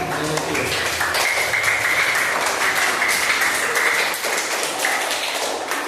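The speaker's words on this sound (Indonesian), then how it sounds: "Yuk beri tepuk tangan meriah untuk teman kalian." Lively applause for classmates in a school classroom, brisk continuous clapping from a group of students, loud and close, lasting about six seconds, with voices mixed in.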